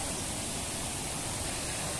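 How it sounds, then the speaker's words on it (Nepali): A hillside river stream rushes steadily, a close, even wash of flowing water with no breaks and no voices. "यो खोलाको पनि आवाज एकदम मजाको छ"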